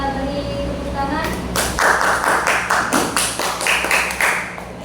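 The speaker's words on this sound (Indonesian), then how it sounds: "Kita beri tepuk tangan." A classroom group breaks into applause after a short stretch of talk, with a burst of steady clapping from several people that lasts a few seconds at close range.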